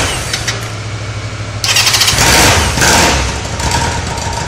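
Honda CB 750 motorcycle engine idling low, then catching a sharp burst of revving that rises loud, peaks, and settles back into a steady, higher run close by.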